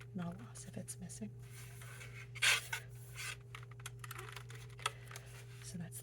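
Typing on a Logitech Pop Keys mechanical keyboard during an unboxing, a few scattered soft key clicks and taps over quiet room hum, with a sharper burst of clatter in the middle.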